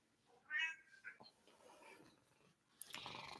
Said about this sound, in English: My cat just wants to say hello.